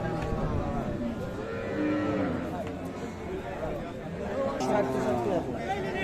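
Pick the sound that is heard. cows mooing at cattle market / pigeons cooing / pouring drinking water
cows mooing at cattle market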